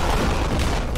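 In the video game Anger Foot, an explosion booms loud and close: a single dense, rumbling burst that fills the whole moment without a break.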